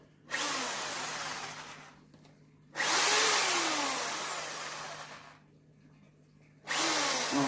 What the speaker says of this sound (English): So we'll give this a buzz over with a drill